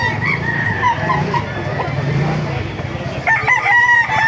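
Roosters crow loudly and repeatedly at a busy chicken market in Baliuag, with clucking fowl and crowd noise filling the background.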